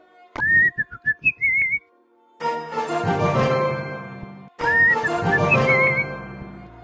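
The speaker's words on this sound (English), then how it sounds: "if you listen closely to her whistling emote, she's whistling the Clash Royale theme" A princess character's whistling emote in Clash Royale, a clear melodic whistle of the game's theme tune, heard twice with a brief rhythmic percussive intro and a burst of music between the two phrases.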